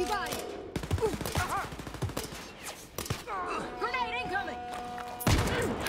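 Gunfire in the shooter Wolfenstein: Youngblood, with sharp broadband shots scattered across the clip amid game music and effects, and a voice talking over much of it.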